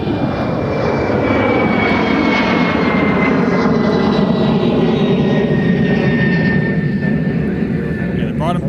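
A jet airliner at MSP airport roars loudly and continuously for several seconds with a steady engine whine, close and dominant throughout.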